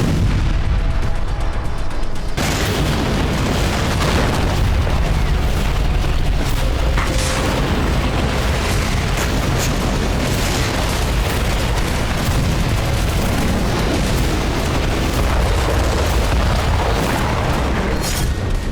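Dense, continuous rumbling blasts and booms from a heavy bombardment of Hezbollah weapon depots and command centres in southern Lebanon, loud and sustained with overlapping impacts and no talk.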